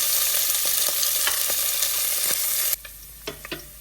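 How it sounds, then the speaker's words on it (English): Pancetta sizzles loudly in a hot pan with steady crackling, then the sizzle abruptly drops away, leaving a few faint clinks and pops. "and that's a nice sizzle."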